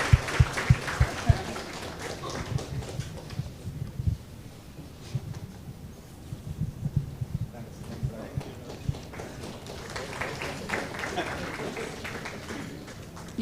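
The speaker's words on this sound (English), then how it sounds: "Let's have a round of applause." Audience applause at a product leaders forum event, with a burst of clapping that builds and fades over the room and a voice speaking through it.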